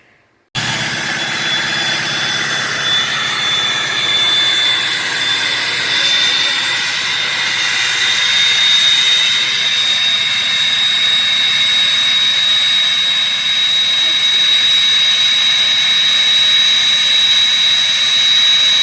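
A 6.0 Powerstroke diesel running with a rebuilt KC turbo and 11-blade billet compressor wheel, loud steady turbo whine with a high rising whistle over a low diesel rumble, starting abruptly and holding.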